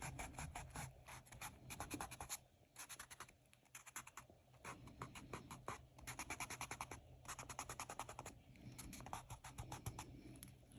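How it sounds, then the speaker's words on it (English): Eraser rubbing out pencil grid lines on paper, rapid scratchy back-and-forth strokes in quick bursts with brief pauses, faint and close-up. "I'm just going to erase my grid lines."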